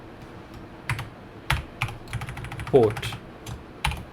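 Keyboard typing while writing Go code, scattered close key clicks and a few sharper keystrokes spread unevenly across the moment, with a brief spoken word partway through.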